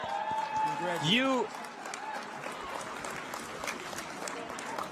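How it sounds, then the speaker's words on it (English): An audience applauding, a soft, distant spread of clapping with a brief whoop early on and faint voices mixed in. "Can we give a round of applause to Jamie?"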